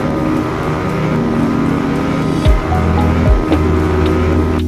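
Cobra motorbike engine in the Indian Bike Driving 3D game, a loud steady drone with shifting pitch and two brief deep dips, heard alone with no talking.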